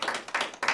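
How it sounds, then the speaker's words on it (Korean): A small indoor group claps during a prize handout at a party game session: a brief, loose burst of hand claps in a few quick waves, near and moderately loud, with no talk over it. "박수 한번"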